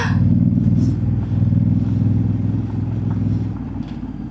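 A Honda Africa Twin 1100 DCT adventure motorcycle rides over rough, bumpy roads in Bohol, its engine running loud and close with a rumbling, pulsing note that eases slightly toward the end, mixed with some clatter.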